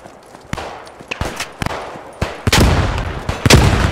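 Gunfire in the WWII shooter Squad 44, set among German paratroopers at Maleme on Crete: sharp, loud shots crack at irregular intervals, with a dense burst of rapid fire near the middle and more cracks toward the end.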